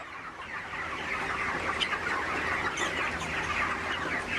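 Several chickens clucking nearby against a busy background of farmyard noise, steady and continuous with no talking.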